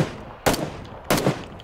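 Gunfire in a shooter video game: two separate loud bursts of shots cut through quiet background noise, each lasting a fraction of a second, the second one followed by a short echoing tail.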